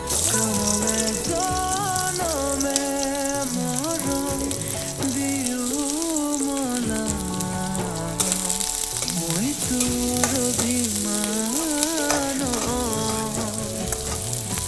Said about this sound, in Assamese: পিঁয়াজটো অলপ ভাজি লৈছোঁ অকণমান ৰঙচুৱা হোৱাকৈ।